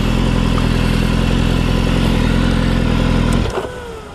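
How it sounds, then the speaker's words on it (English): Motorcycle cooling fan whirring steadily and loudly with a broadband hum from the parked bike, cutting off abruptly near the end and leaving a brief fading spin-down. "The fan's on."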